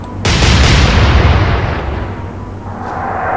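Warship guns fire in the naval video game Atlantic Fleet, a heavy booming salvo that erupts abruptly and rolls on loudly, decaying slowly into a low rumbling tail.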